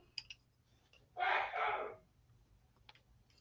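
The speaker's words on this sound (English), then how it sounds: "Was that a sneeze?" A man sneezes once in a quiet room during a crafting session, a faint, slightly distant two-part burst between light clicks and handling noises, with no talk.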